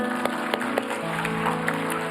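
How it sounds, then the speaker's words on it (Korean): A church congregation claps together during a Sunday worship service, sharp hand claps at a brief steady rhythm over sustained music tones, with a voice faintly present. "우리 다 같이 하나님께 영광의 박수를 돌려드리겠습니다"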